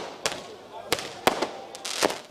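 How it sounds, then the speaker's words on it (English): Fireworks at a national celebration for a football team's final, heard as four sharp bangs spaced roughly half a second apart over a steady crowd murmur. "The fireworks could have been louder"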